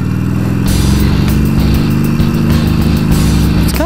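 Harley-Davidson motorcycle engine revving up close, a loud deep rumbling idle rising into throttle blips, with no talk over it.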